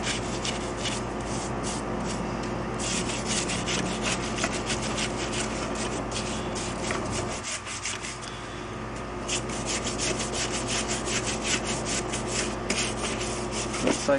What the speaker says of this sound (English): Let's use the other brush just so that I can get the excess off.